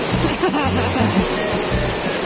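A steady, loud rush of falling water from the Pan de Azúcar waterfall in Caluma fills the scene, with a voice briefly audible over the roar.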